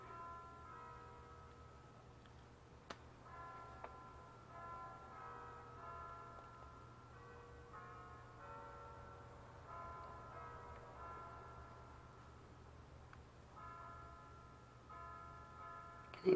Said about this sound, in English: Can you guys hear the church bells?